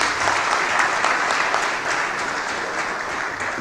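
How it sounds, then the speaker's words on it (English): Audience applause at the signing of a presidential election peace pact in Ghana, a steady wash of many hands clapping at a fairly loud, even level without talk. "Another round of applause, please."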